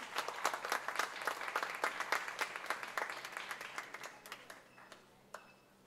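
An audience at a charitable event applauds a dignitary on stage, with steady clapping from a crowd at moderate distance that tapers off toward the end.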